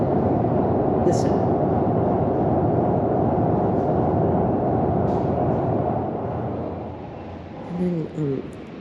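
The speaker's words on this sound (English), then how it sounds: "once the train passes right underneath Manor House, there's a complete rumble" A London Underground train passing beneath Manor House station, giving a steady, loud low rumble with a thin whine above it, and a voice speaking briefly near the end.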